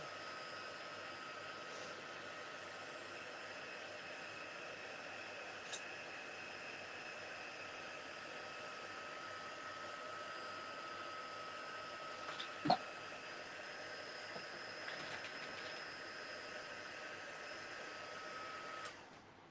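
A dryer runs in one continuous steady whir, drying pulpy paper for scrapbooking, with a faint tick or two over the drone.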